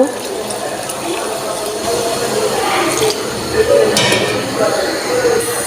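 Broth is poured into a pot of chickpea dal with egg, giving a steady watery splash and trickle at close range with a few light clinks from the pot.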